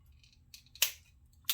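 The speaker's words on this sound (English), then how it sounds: "Just a little snip." Scissors snip fabric beside a zipper while sewing, a couple of quiet, close cuts with a sharp crisp snap near the end.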